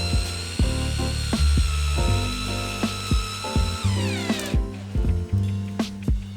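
Power driver running 8x300mm structural screws into timber ceiling beams, a steady loud whirring drone with repeated sharp clicks and brief pauses as the screw bites and the motor pitch shifts.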